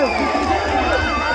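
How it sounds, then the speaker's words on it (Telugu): An audience at a live comedy skit event cheering and making crowd noise, a dense continuous roar of voices close by throughout. "ఒకసారి గట్టిగా చప్పట్లు కొట్టండి"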